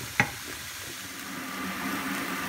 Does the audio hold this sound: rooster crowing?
no